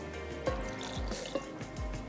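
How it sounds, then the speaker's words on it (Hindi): Water is poured into a bhel puri mixture of ice and lemon juice, giving soft trickling and a few dripping plops in a quiet kitchen, faint and close, with no talking. "थोड़ा सा हम इसमें ऐड करेंगे पानी"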